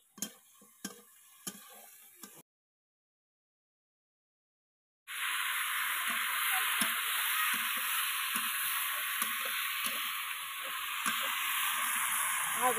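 Marinated poultry meat frying in a pan: a few light taps, then a short silence, then a steady, loud, close sizzle that holds to the end with no one talking.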